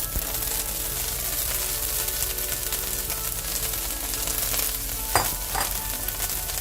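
Chopped kale sautéing in a pan with baby potatoes, a steady close sizzle and crackle with a few sharper pops and stirring clatters near the end.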